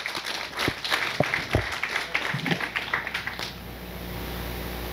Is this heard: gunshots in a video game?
no